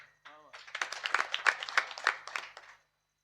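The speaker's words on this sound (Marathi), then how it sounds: "टाळ्या वाजून सर्वांनी स्वागत करा महाराज" An audience at a Warkari kirtan claps to welcome a pakhawaj player, a brief voice giving way to a dense patter of applause that swells and then stops.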